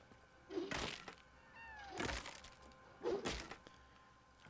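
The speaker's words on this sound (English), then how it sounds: "I want to say there's a cat back here." A cat in a farming video game gives three short, distinct meows spaced about a second apart, fairly quiet against a faint background, each with a sharp, bright onset.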